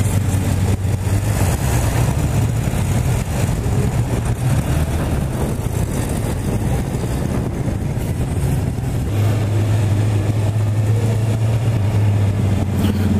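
Engine of a Honda CB650R motorcycle runs steadily and close for several seconds, a loud continuous low drone that shifts pitch partway through, with no voices.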